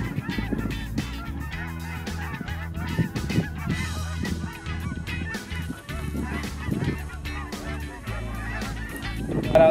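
Geese honk repeatedly and loudly in a dense, overlapping chorus during a Kansas waterfowl hunt, the calls continuous throughout with no talk.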